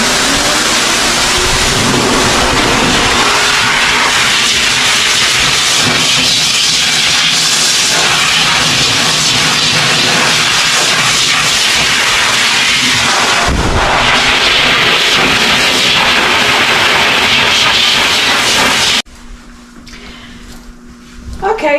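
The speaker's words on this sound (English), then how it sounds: "I'm going to go ahead and blow dry him for just a few minutes" A pet blow dryer roars steadily as it dries a Cocker Spaniel during grooming, loud and close for most of the stretch before cutting out near the end, leaving quieter background sound.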